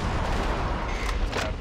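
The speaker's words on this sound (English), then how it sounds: "as long as I fire my machine gun, I'm like immune to those missiles." Continuous gunfire from a machine gun in the video game Metal Wolf Chaos, a dense, steady roar of rapid shots with booming low end and no pauses, loud and close.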